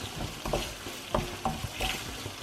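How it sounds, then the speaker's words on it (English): Food frying in a pan, a soft sizzle under occasional stirring scrapes and clinks, close and fairly quiet, with no voices. "So keep going, fry them."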